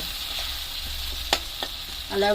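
Potatoes sizzle in hot oil in a pan alongside onion and tomato, a constant frying hiss broken by a few clattering knocks as a spatula turns them.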